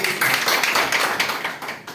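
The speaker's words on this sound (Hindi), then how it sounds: "उनके लिए वन सेकेंड जोरदार ताली" Applause from an audience at a Hindi self-improvement seminar, a loud, dense patter of many hands clapping for about two seconds with no break.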